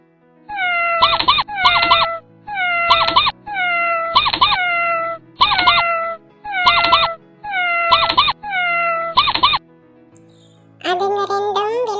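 Cartoon-style cat meows in repeated quick pairs, loud and close, about eight bursts in a steady rhythm as the cat chases a mouse, ending with a short pause and a longer wavering cry.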